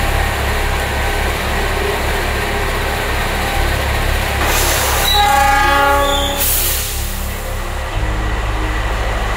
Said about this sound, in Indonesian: lokomotif yang akan menarik Fajar Utama sedang dipersiapkan di depo lokomotif Cipinang